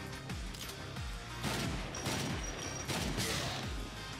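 A frost barrel explodes in a video game, giving a loud burst with crackling, icy debris. A series of heavy booms and impacts repeats throughout amid steady game noise.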